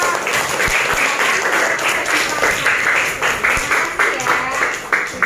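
A fifth-grade primary school class claps for two student groups after their presentations on Surah Al-Ma'un. The busy clapping of many small hands runs steadily for about five seconds, with a voice briefly mixed in.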